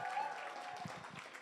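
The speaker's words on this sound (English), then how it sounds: "Let's give a huge round of applause and thank you to them." Audience clapping for the hotel staff, including bartenders, at a creators' business event. The applause sounds steady and moderately loud throughout, with a room hum underneath.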